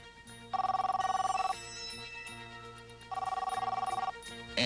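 A portable cellular phone in a Pactel Cellular commercial rings in two loud, rapid electronic trills, each lasting about a second, separated by a pause and set over steady background music.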